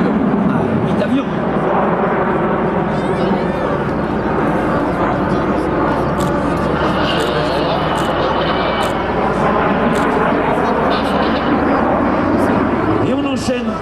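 Eight jets of an aerobatic team fly a formation barrel roll at the 2012 Prouvy-Valenciennes air show, a loud sustained engine roar with shifting pitch under French commentary.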